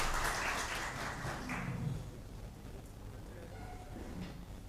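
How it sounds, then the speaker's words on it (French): Audience applause at a panel seminar for a speaker being welcomed, a broadband patter of clapping strongest at the start and fading over a few seconds, with faint voices afterward. "On peut l'applaudir un peu."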